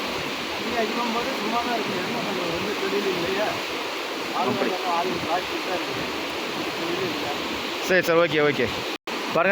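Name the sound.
river water rushing at Hogenakkal Falls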